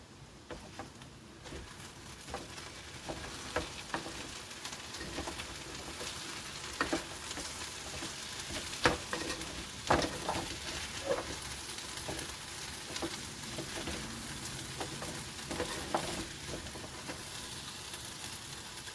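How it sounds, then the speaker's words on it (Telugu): Potatoes fry in a pan as coriander powder is stirred in, giving a steady sizzle with occasional spoon scrapes and clicks, close and moderately loud, with no one speaking. "లైట్గా ధనియాల పొడి, ఒకసారి కలుపుకుందాము."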